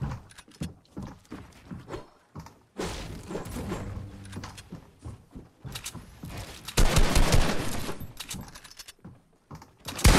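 Rapid gunfire bursts and repeated shots from a Fortnite box fight, loud and close, with clustered volleys and short pauses between exchanges, no talking.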